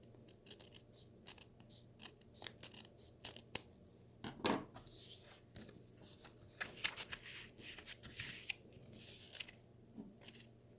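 Scissors snip and trim paper for a handmade tag, with a series of close, quiet, crisp cuts and light paper rustles at an irregular pace.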